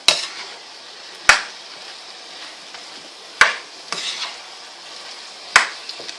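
A spatula stirs stir-fried chicken with cauliflower and carrots in a pan, giving four sharp metallic scrapes and knocks at uneven intervals over a soft background sizzle, with no talking.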